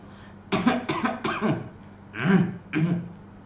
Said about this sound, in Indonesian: dan tidak banyak berdehem